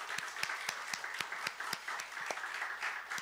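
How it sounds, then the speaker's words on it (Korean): A church congregation claps together in a steady rhythm, each sharp clap landing evenly and crisply in a reverberant hall, with no voices over it. "진심으로 우리 박수로 반응하면 어떨까 싶습니다."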